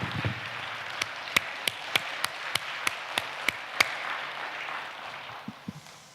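A church congregation claps in a slow, even rhythm of about ten sharp claps. The claps stand out over a soft background murmur, and a few scattered claps follow near the end.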